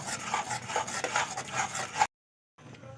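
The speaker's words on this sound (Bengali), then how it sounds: "আর আমি আঁচটাকে কিন্তু একদমই লো ফ্লেমে রেখেছি এবারে অনবরত নাড়তে থাকবো নেড়ে নেড়ে একটা নাড়ুর ডো তৈরি করে নেব" Watermelon nadu dough being stirred nonstop in a pan over a low flame, making dense scraping and rubbing strokes for about two seconds. After a short silence, softer scraping resumes.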